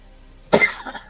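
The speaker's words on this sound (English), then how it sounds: "Sorry about the coughing." A single short, sharp cough bursts out close to the microphone, followed by a softer trailing huff, in an otherwise quiet room.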